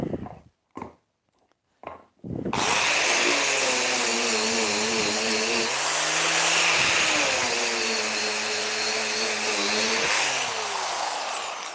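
A power sander working the back of a carved wooden gargoyle head in a wood shop, first in a few short bursts, then running steadily with a loud whining drone that rises and falls as it is pressed against the wood.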